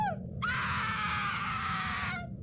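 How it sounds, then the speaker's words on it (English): In a Roblox horror game, a woman tied to a cross above a fire screams in agony: one sustained, loud, anguished cry lasting nearly two seconds over a low rumbling background, with no talking. "Sarah, tied to a cross above this fire, with her screaming in agony."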